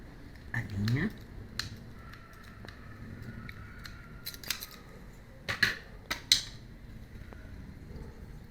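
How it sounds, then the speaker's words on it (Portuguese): Scissors snipping sewing thread while making a baby teether toy, a few sharp close clicks scattered over quiet room tone with faint talk in the background. "Vamos cortar a linha."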